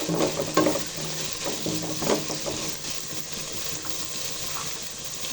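Cabbage and carrot for chicken fried rice sizzle in a hot pan while being stirred. A steady frying hiss runs under scraping utensil strokes and occasional clinks, close and continuous.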